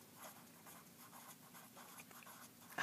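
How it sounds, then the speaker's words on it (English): Pencil writing on a sheet of paper turned sideways: soft, steady scratching strokes with short pauses, quiet and close, with no one talking. "I'm going to turn my page sideways and write 1s"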